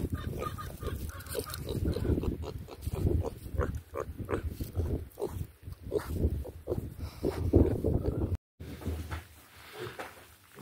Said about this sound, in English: who didn't think pigs were adorable? These guys are just sweethearts.